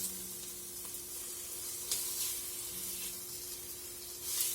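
Bacon and mirepoix sautéing in a pan for a beef burgundy pie, a quiet steady sizzle with faint crackles and a few soft stirring sounds, no talking.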